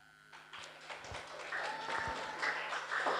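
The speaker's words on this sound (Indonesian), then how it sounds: "Tepuk tangan kanggo Ustaz." A crowd gives light, scattered clapping for a preacher at a religious sermon marking a student organisation inauguration at an Islamic school, starting sparse and building gradually, fairly faint and distant with some hollow taps.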